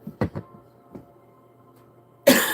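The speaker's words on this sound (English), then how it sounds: "And I keep coughing a lot tonight." A few close, sharp coughs from one person come in quick succession, then one more after a pause, followed by a sudden loud burst of noise at the end.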